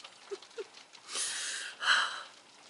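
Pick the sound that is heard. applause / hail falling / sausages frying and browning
hail falling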